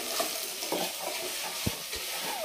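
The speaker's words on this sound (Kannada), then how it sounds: "ಕೆಚ್ಚಕಾಯಿ ಎಲ್ಲ ಫ್ರೈ ಆಗೈತೆ." Chopped raw jackfruit frying in oil in a pan for biryani: a steady close sizzle with occasional spatula stirs and a couple of soft knocks against the pan, no voices.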